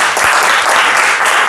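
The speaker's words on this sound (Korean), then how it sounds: "우리 주님께 영광의 박수 드리겠습니다." A congregation at a worship service of a Daejeon and Sejong mission association gives loud, dense applause, a continuous wash of many hands clapping close by for a brief moment.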